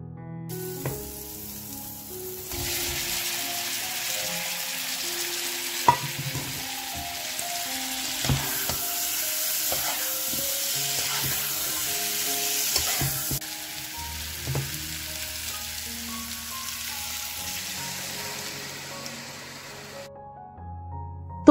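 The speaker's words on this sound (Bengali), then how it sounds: "এরপরে এর মধ্যে একটুখানি জিরে গুঁড়ো, হলুদ গুঁড়ো আর লঙ্কা গুঁড়ো দিয়ে ভালো করে কষিয়ে নিচ্ছি।" Onion, ginger, garlic and tomato frying with cumin, turmeric and chili powder: a long, steady sizzle close up, with scattered clicks and scrapes as the mixture is stirred, and no talking.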